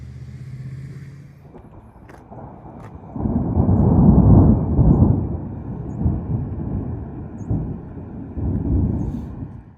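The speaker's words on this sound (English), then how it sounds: "that thunderstorm's kind of rolling through" Rolling thunder from a passing thunderstorm: a low, deep rumble that swells after a quiet start, peaks around the middle and keeps grumbling in uneven waves, loud and close, with no voices.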